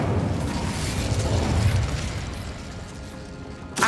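An Incendio fire spell bursts in the Hogwarts Legacy game, a loud, rumbling, roaring blast that slowly eases off, then a brief sharp crack right at the end.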